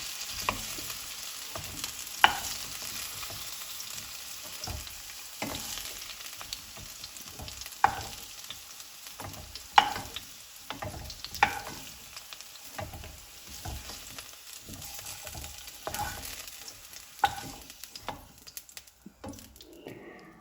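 Potatoes fry in oil in a pan for a masala poori and aloo mutter meal, with a steady close sizzle broken by repeated knocks and scrapes of stirring, and no talk.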